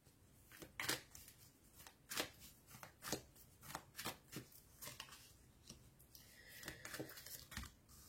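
Tarot cards shuffled by hand before a card reading, a quiet, close series of irregular riffling and slapping bursts with small gaps between them, heard alone without talk.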